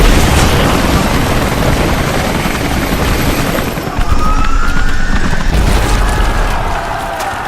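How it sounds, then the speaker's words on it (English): Game helicopters from Rise of the Tomb Raider sweep in, a loud continuous rotor roar with deep rumble and whooshing passes that rise and fall over several seconds, with no talk. "Those choppers should be in range soon."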